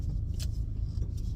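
Car interior with a transmission that seems to be failing, a steady low engine and drivetrain rumble droning continuously at moderate level with no speech over it.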